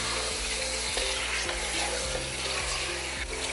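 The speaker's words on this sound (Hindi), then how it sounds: "चिकन को हम पकाएंगे रंग चेंज होने तक।" Chicken pieces sizzle steadily in a hot pan with ginger paste while being cooked for a bell pepper and spring onion curry, a continuous close fry with faint stirring scrapes at a regular pace.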